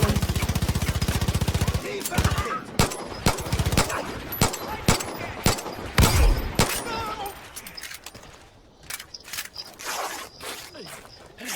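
Video game gunfire, aimed at a red barrel: a rapid machine-gun burst opens, followed by scattered loud single shots and impacts with a booming hit near the middle, all close and punchy.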